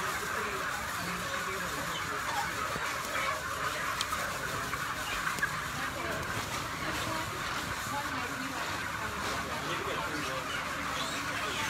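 Crowds of chickens packed inside a barn, a dense, constant chorus of clucking and squawking at steady loudness, with voices talking faintly underneath.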